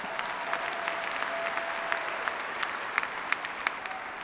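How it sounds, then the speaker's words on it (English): An audience at a Heritage Action for America presidential forum applauds steadily. The applause sounds fairly distant and subdued, a continuous wash of clapping with a few sharper individual claps standing out. "And so you can clap."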